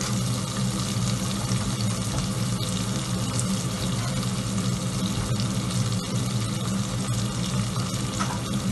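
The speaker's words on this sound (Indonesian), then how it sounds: "Sekarang kita tambahkan satu mangkok air ya" A bowl of water goes into a wok where a spicy Szechuan sliced beef dish is cooking, giving a loud, continuous rushing splash and bubbling that runs through the whole stretch without pause. No voices.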